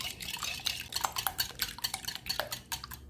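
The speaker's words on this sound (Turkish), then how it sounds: "Şu yumurtalarını çırpıyorum." Two eggs being beaten in a bowl for a savory breakfast börek, a steady run of light, quick clinking and scraping strokes at close range with no talking.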